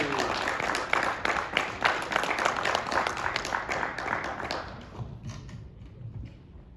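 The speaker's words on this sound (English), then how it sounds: "keep it going, Co-op City, keep clapping" Applause from the audience at a live comedy show in Co-op City, dense and steady clapping that thins out and fades near the end.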